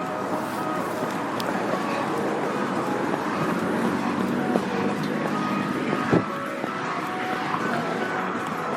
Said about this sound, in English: Well, I apologize for the traffic noise